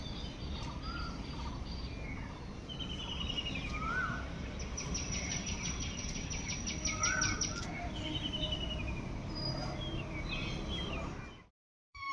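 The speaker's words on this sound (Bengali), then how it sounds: "যাতে তোমাদেরকে শোনাতে পারি পাখির আওয়াজটা" Morning birdsong on a rooftop: several birds chirp and trill continuously, with repeated rapid twittering phrases and occasional clear whistles over a steady background hum, no talking.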